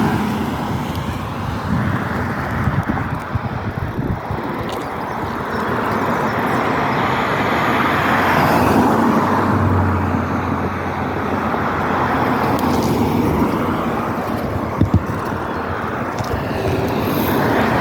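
Road traffic streams past a person on a converted Pashley electric tricycle at a roadside: a continuous broadband roar of passing cars, swelling and fading as vehicles go by, loud and close, without speech.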